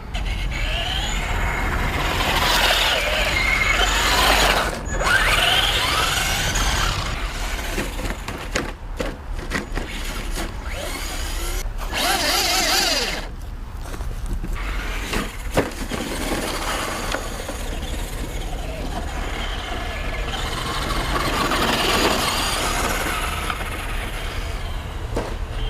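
A Traxxas 2WD Ford Raptor RC truck runs through a park, its electric motor whining and rising and falling as it speeds up and slows, with some gritty rumble from the ground and no talk.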